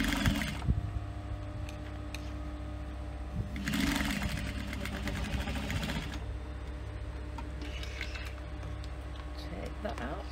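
A sewing machine stitches across a clutch purse in runs of fast, steady mechanical whirring and ticking, with a person speaking quietly between and over the bursts of stitching.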